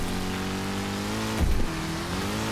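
Steady droning car engine in the Wreckfest racing game, a continuous hum with a brief louder surge near the middle, like a nearby collision or rev, with no talk.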